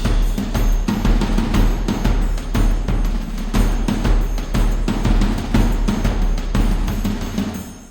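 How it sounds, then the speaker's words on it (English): Orchestral atonal percussion from a sample library hits in a dense, rhythmic stream of sharp drum and cymbal strikes with booming low thuds, loud and close, carrying on steadily before tapering at the end. "The atonal percussion is a focused collection of orchestral percussion."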